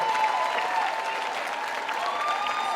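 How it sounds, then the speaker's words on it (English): Sustained applause from a crowd honoring the 2023 EWOC honorees at the 15th anniversary celebration, steady and fairly loud throughout. "Round of applause"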